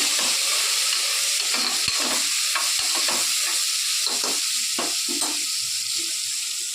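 Vegetables for a brinjal and field bean tamarind curry sizzle steadily in a pan, with repeated spatula scrapes and stirring knocks close by.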